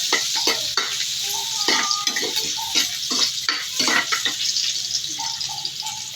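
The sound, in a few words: sautéing onion and garlic in a pan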